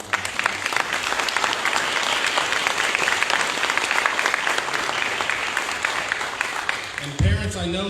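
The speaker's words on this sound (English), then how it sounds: "give your staff, your teachers, a round of applause." Kids and parents at a school honors night applaud staff and teachers, a loud, sustained round of clapping lasting about seven seconds before a voice starts speaking at the end.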